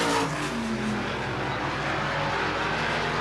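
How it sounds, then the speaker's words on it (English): Supermodified race cars circling Sandusky Speedway in 1985 make a steady, loud engine drone that holds without a break. It sounds like several cars running together at middle distance, and nobody talks over it. "the cars continuing to move around the racetrack as Doug Siner continuing to lead the way"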